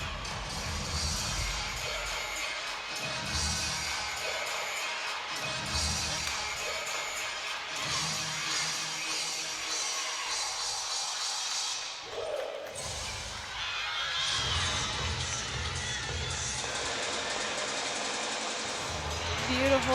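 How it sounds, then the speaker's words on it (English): Arena crowd at a college gymnastics meet between Missouri and Arkansas, a dense, steady roar of cheering and noise that fills the whole stretch, with a brief dip partway through before swelling again, loud and continuous. "This crowd is already into it."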